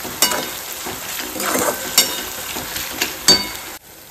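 Onion, tomatoes, chillies and ginger-garlic-coriander paste fry in oil in a kadhai for chicken biryani, a steady close sizzle broken by several sharp spoon-against-pan scrapes and clinks before it cuts off abruptly near the end.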